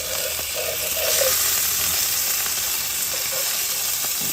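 Hamburgers sizzle and fry at a camp cookout, a steady close hiss of fat crackling in the pan with faint pops throughout, no voices.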